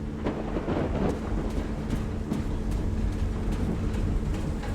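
Thunder in a storm in the game Call of the Sea: a continuous low rumble with rain and wind noise, steady and fairly loud throughout, rolling on without any speech.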